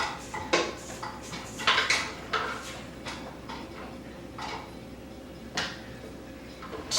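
A spatula scrapes down the sides of a mixing bowl holding creamed peach-square batter, giving a series of light, irregular scrapes and clinks close by with quiet gaps between them.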